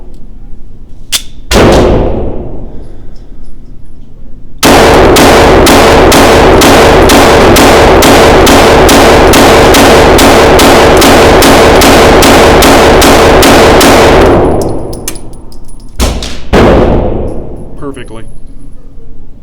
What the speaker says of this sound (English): let's see if the Radian Ramjet Afterburner Glock 19X factory spring will run a mixed mag of ammo.